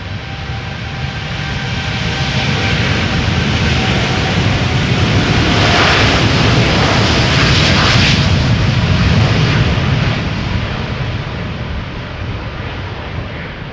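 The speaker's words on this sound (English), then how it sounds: "Garuda 777 coming this way" A Garuda Boeing 777 roars through its takeoff run, jet engines loud and close in a sustained broadband rumble that swells toward the middle and eases slightly at the end, with no talk over it.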